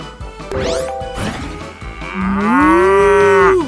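A robot toy dog's electronic voice imitates a cow's moo, a long synthetic lowing tone that rises and holds, preceded by bright electronic chirps.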